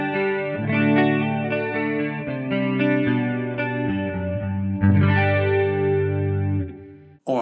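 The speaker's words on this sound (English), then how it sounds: "So I can add a chorus in." Electric guitar run through a chorus effect in the Blue Cat Audio Axiom 2 plugin, sustained shimmering chords with a wavering, doubled tone, played alone and fairly loud before a sudden stop.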